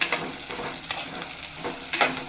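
Drumstick and brinjal pieces sautéing in an oiled pan, with a steady sizzle and repeated scraping stirs of a spoon against the pan, close and continuous, no talking.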